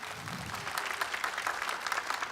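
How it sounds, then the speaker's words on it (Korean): An audience claps steadily at a Korean children's song festival, a dense, even patter of many hands lasting a couple of seconds with a faint voice briefly underneath at the start. "박수 한번 다시 부탁드리겠습니다"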